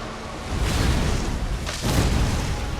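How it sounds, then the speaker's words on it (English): A boss enemy explodes in a video game with a loud, broad rumbling boom that swells twice, dense and sustained for a few seconds with heavy low-end noise. "It exploded and shot out shrapnel"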